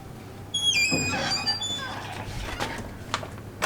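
Hotel room door at Regalia Suites in Kuala Lumpur opening with an access card: a run of high electronic chirps and squeaky tones, then soft latch clicks and thuds close by.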